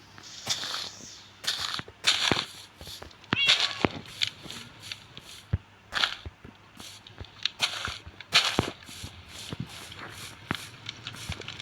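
A cat in a survival video game gives a series of short, fairly loud meows at irregular intervals, with soft footstep-like taps and light game sounds between them.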